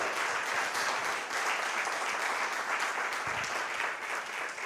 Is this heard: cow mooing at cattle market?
no